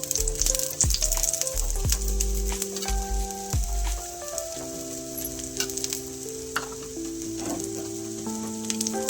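Bread chilla frying in oil on a pan, close steady sizzle with occasional scraping and tonal clatter from the pan being moved, no talking.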